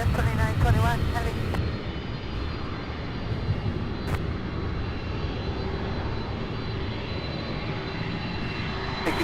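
A heavy UPS freighter jet lands at SDF airport with a loud, sustained engine roar that rumbles on throughout. Radio chatter from air traffic control comes through on top.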